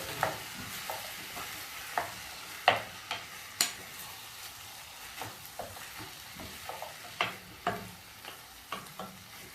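Tomato puree being stirred into a frying brown beef stew, soft sizzling under a regular series of spoon scrapes and knocks against the pot, fairly quiet and close.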